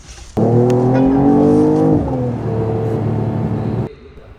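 A Mercedes-AMG E53 engine roars loudly at close range, holding a strong, droning exhaust note for a few seconds before cutting off abruptly.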